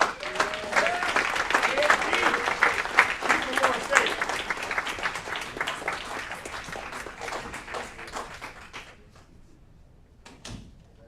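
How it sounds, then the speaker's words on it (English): Applause from the audience at an Aurora city council meeting, dense clapping that gradually thins and fades over about nine seconds, leaving a few isolated claps and a faint voice at the end. "Another round of applause."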